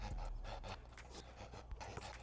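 Heavy, rhythmic panting like a dog, quick close breaths repeating steadily with no talk.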